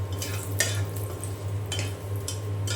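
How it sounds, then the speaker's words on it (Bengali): Dried red chillies fry in hot mustard oil with a steady close sizzle, broken by a few sharp stirring scrapes and spatters in a home kitchen. "আর এখানে সরিষার তেল দিয়ে শুকনা মরিচ ভেজে নিচ্ছি"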